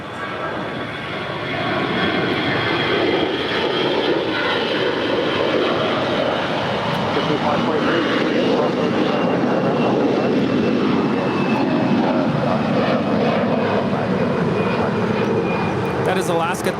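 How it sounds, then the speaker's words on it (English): A 14-year-old Alaska Airlines Airbus A320 departs LAX for Portland, its jet engines roaring loud and steady for the whole stretch. Someone talks over the engine noise. "That is Alaska 1373 departing to Portland. It's a 14-year-old Airbus A320."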